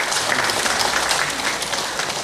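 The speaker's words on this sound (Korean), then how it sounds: "다시 한번 박수 한번 해주겠습니다" A church congregation applauding children from the Bible school, a steady, loud wash of clapping from many hands throughout with no speech.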